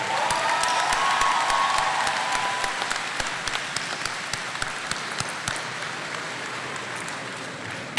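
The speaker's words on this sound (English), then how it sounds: "Let's show them our appreciation with another round of applause" A large graduation crowd at the James Monroe 2017 ceremony breaks into sustained applause, dense clapping with a few louder individual claps standing out as it slowly thins toward the end.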